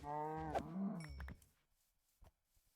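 A cow in the Minecraft video game gives a single loud, drawn-out moo, followed by a few faint clicks and taps in near silence.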